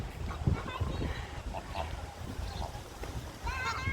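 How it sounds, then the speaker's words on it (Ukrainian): Several geese honk and call intermittently across a lake by the Sich yacht club in Dnipro, Ukraine, with moderately distant, overlapping cries and low background rumble. "Ось така зграя гусей плаває в озері."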